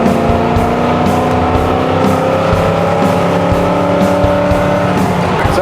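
A 1972 Ford Bronco drives at speed on a highway, its engine droning loud and steady with tire and road roar, heard from inside the cabin with no talking.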